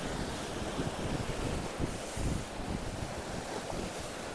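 Wind-driven waves wash onto the Lake Huron shore near Tobermory, Canada, in the off-season. A continuous roar of surf is mixed with heavy wind buffeting, and the louder swells surge now and then.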